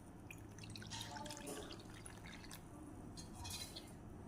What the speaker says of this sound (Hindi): 1 चम्मच चीनी और इसमें डालेंगे नीम गर्म पानी